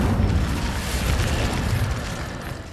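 An Incendio fire spell in Hogwarts Legacy erupts as a loud, close rumbling roar of flame, steady and heavy for a couple of seconds, then easing off slightly.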